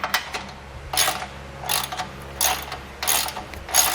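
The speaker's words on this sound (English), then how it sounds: "take a flange nut, get that started, and come back and snug it down" A flange nut on a Curt custom base plate kit for a 2020 Jeep Wrangler is snugged down with a wrench: short, close bursts of rapid ratcheting clicks repeat about five times, separated by brief pauses.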